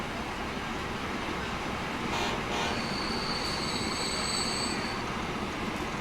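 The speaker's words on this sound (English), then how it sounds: "Gotta wait for that train to go on through." A train rumbles past in the rail-building game Transport Fever, with a steady rolling roar and a brief high wheel squeal partway through.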